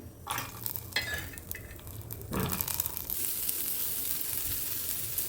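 Onions, green chillies and garlic fry in oil in a home kitchen pan, starting with scattered stirring clatters and scraping, then settling into a steady, bright sizzle that holds evenly to the end.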